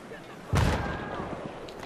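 A grenade in Battlefield 3 multiplayer goes off in one sharp, heavy blast that decays into a rumbling tail over background battle noise, with a voice talking.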